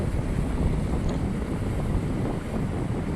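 Water gushes from a pipe at full force, pumped by a 7.5 HP motor, making a steady, loud, broadband rush that holds unbroken throughout with no voices.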